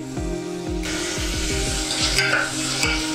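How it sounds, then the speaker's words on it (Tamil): Chopped onions sizzle in hot oil for sothi kulambu while a utensil stirs with a rhythmic scraping, steady frying hiss underneath. "நறுக்கி வச்சுருக்க வெங்காயத்தை போட்டு வதக்கி"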